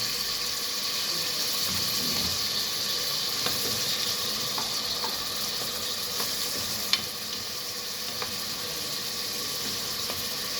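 Tomatoes frying in a pan give a steady, even sizzle that holds close and constant, with a few faint clicks of stirring and no voices.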